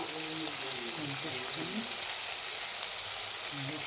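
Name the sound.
stirring tomatoes and spices frying in a pan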